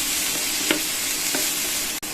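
Vegetables for chutney stir-fry in a pan with a steady close sizzle and a couple of soft stirring scrapes, ending in a brief dip, with no voices.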